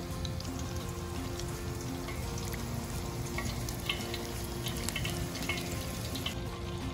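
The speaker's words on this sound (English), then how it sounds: "Remember, the fish fries really fast." Battered fish fries in hot oil in a pan for Baja-style tacos, giving a steady, close, dense crackling and sizzling hiss throughout.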